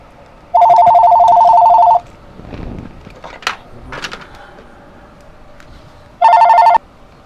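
A traditional landline telephone rings in a home workbench room, one long loud electronic trill and a second shorter burst after a gap filled with faint handling noises and knocks.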